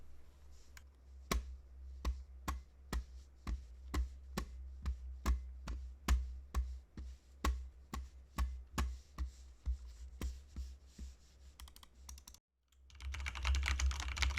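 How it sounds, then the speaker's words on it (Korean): Rapid, steady clacking of a red-switch mechanical keyboard typed on close by, picked up by a desk microphone, soft key presses in an even rhythm, ending with a short pause and rustle. "지금은 적축 키보드 타자를 치면서 말을 하는 중입니다"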